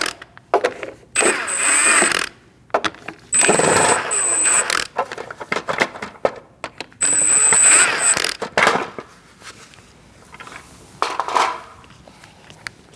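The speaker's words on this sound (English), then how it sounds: "Using a 19mm, we're going to remove our hubcap." A 19mm socket works loose the rear hubcap on a Chevrolet HHR, with repeated close bursts of ratcheting and metallic clicking separated by brief quiet gaps.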